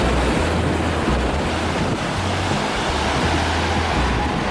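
Steady rushing surf on a beach in Phuket, Thailand, with heavy wind buffeting the microphone, a constant loud wash of water without clear breaks.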